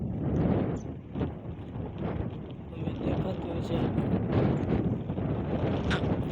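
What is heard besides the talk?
strong wind blowing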